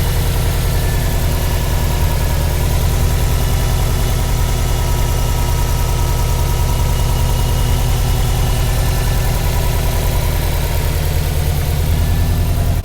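Subaru Impreza 1998 RS coupe's EJ205 turbo flat-four idling steadily close by, a continuous low droning hum with no change in pace throughout.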